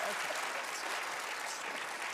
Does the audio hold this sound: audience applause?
yes